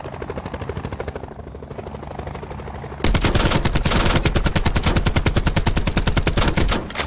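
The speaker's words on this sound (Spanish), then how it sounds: "mi helicóptero. Otro helicóptero por ahí." Call of Duty Black Ops 4 match with a helicopter's rotor thumping, then a sustained burst of rapid machine-gun fire that continues loud and dense for several seconds.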